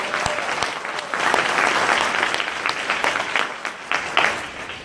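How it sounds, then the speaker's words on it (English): An audience claps loudly and steadily for several seconds at a council meeting, dense applause filling the room with a few sharper individual claps on top. "if you can clap really, really loud to express our gratitude to them"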